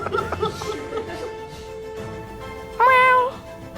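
A woman mimics a cat with a short, loud, rising meow-like cry near the end, following a few fainter vocal sounds and soft laughter.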